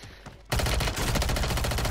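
Dense video-game gunfire bursts in abruptly after half a second of near quiet, a loud, continuous rattle of rapid automatic shots filling the rest of the moment.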